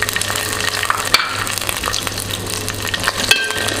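Garlic and small shallots fry in a pan for a fish curry, giving a steady, close sizzle with a few brief clinks and crackles. No one speaks.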